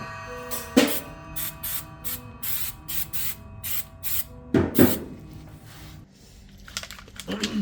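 A spray can or spray gun paints the trunk of a 1951 Chevy Styleline. Short hissing bursts repeat in a quick, uneven rhythm, then a longer louder burst follows, with faint clicks and rustling between sprays.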